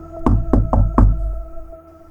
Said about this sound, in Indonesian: suara ketukan itu terdengar lagi